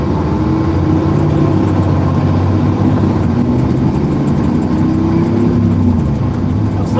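A Harley Davidson Sportster motorcycle engine idles with a steady, low, continuous rumble that stays close and even throughout.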